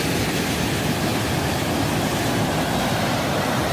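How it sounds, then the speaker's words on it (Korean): A waterfall pouring into a deep swirling pool in the Baemsagol valley of Jirisan, a loud, steady broadband roar of rushing water that fills the whole stretch without pause, heard close and alone with no voices. "엄청난 용초에 폭포에 회오리가 있는"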